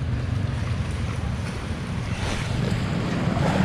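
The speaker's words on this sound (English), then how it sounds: "We have the sea here." Sea waves wash along a shore near Medina, a continuous broad roar mixed with heavy wind buffeting, steady and fairly loud throughout.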